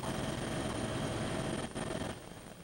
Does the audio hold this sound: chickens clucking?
no